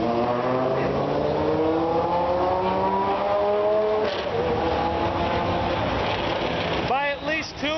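A Dodge Viper and a BMW drag race with loud, close engines climbing through the gears in rising, sweeping tones that shift between upshifts, before another engine revs sharply near the end.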